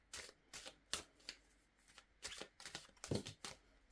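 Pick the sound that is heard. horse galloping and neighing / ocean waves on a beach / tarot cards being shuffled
tarot cards being shuffled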